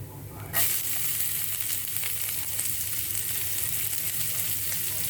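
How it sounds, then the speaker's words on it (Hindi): Onion dropped into hot oil with crackled mustard seeds bursts into a loud, steady sizzle that holds evenly after a sudden start, with no talking. "प्याज को हमें गोल्डन ब्राउन करने तक पकाना है"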